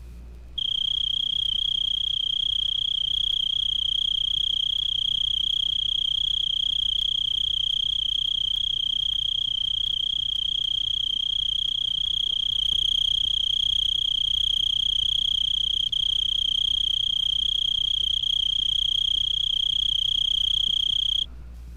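A tree cricket sings on weeds in a continuous, even high trill that runs steady and clear for the whole stretch with no pauses.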